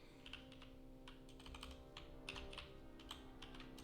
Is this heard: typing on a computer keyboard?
yes